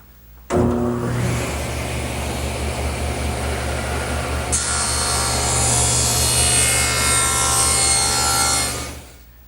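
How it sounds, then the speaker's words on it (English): A table saw spins up and slices a 90-degree cut through a wooden workpiece, a steady loud whine and rasp of the blade lasting several seconds before the saw winds down. "Now what I want to do is make a 90-degree cut to that first bevel that I made."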